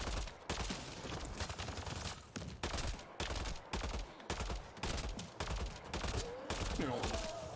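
Rapid bursts of gunfire from the video game Mass Effect Andromeda crackle in dense, repeated volleys with brief gaps between them. Faint voices sit beneath.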